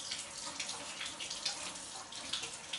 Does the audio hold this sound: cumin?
no